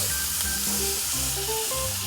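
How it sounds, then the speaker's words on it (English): Bacon strips sizzle loudly on a hot griddle set over a kettle grill, a dense continuous crackling hiss with no talk over it. "So I'm gonna move these bacons around pretty quick because this griddle is hot."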